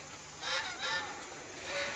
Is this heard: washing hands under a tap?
no